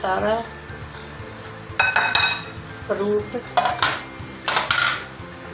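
Utensils clink and scrape against a bowl while fruit chaat of peach, apple, banana and dates is mixed, the metallic clatters coming in short bursts close by, with faint talk in the background.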